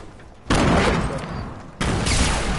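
Grenade blast and gunfire in the Fortnite video game: two sudden loud bursts of dense, roaring noise, each sustained for about a second, with no clear talk over them.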